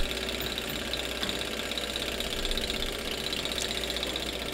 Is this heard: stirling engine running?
yes